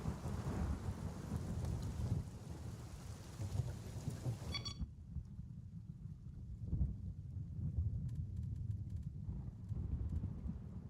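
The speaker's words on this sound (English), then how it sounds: "Tropical thunderstorm." Steady heavy rain and low thunder rumbles from a tropical thunderstorm in a shooter game's DLC. The storm sounds full at first, then turns muffled and dull partway through as the rain keeps going, with no speech.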